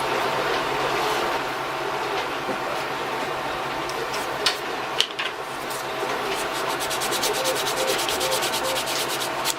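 Sandpaper rubbing back and forth over a crack filled with super glue, a steady close scratchy sanding that runs continuously with a few brief knocks.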